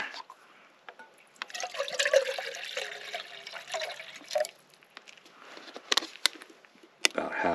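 Water pours into a Jetboil Flash cooking cup, filling it about halfway from a bottle, with an uneven splashing trickle that rises and falls near the listener and ends in a few sharp knocks.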